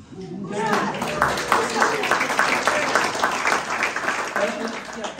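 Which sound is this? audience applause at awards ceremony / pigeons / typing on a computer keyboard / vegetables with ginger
audience applause at awards ceremony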